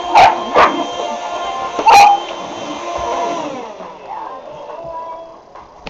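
A dog barks sharply three times over the steady whir of a small handheld Dustbuster vacuum, which keeps droning after the barking stops.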